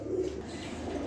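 A big pair of high flyer teddy pigeons give a brief low coo up close, a single soft throaty call with a faint rustle.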